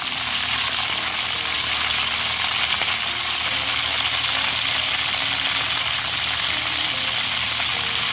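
Snake meat sizzles and crackles steadily in hot oil, a dense continuous frying hiss close up with no talking.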